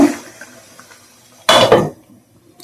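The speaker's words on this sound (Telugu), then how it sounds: "ఇప్పుడైతే మూత వేస్తున్నాను" A metal lid is set down on a pot of simmering beef curry with coriander leaves, giving one loud clattering clank that rings briefly and fades, then near-quiet kitchen background.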